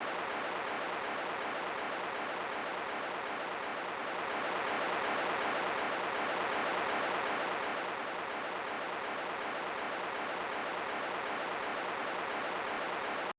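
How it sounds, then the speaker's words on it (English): Steady broadband hiss of pink noise runs continuously, swelling slightly in the middle as if passing overhead, with no other sounds. "they include pink noise as well as voice"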